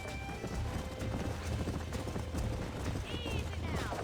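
Horses galloping during a Red Dead Redemption cowboy chase, a dense, steady clip-clop of hooves filling the scene with wind rushing and a brief whinny-like squeal near the end, no talk.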